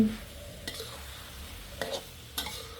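Chili paste curry with fried egg and long beans is stir-fried in a pan, a quiet sizzle with three distinct scraping stirs at intervals.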